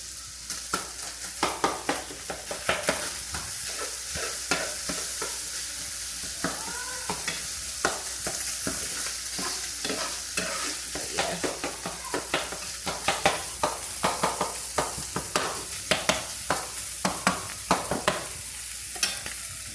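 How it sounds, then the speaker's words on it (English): Meat fries in hot grease with a continuous close sizzle, dense with sharp pops and crackles that come in rapid bursts throughout. "The grease literally just popped up in my face."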